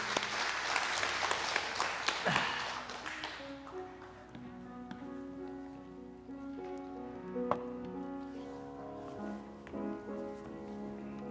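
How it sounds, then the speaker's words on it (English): Applause for the children at a church water communion service, broadband clapping for the first three seconds or so before giving way to sustained tonal music or singing. "Let's have a round of applause for all our kids and for Merlinda."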